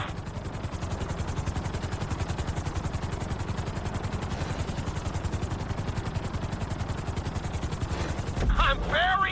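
A helicopter in GTA 5 sets down on a landing pad, its rotor chopping in a fast, steady, loud beat, with a brief clattering surge near the end as it settles.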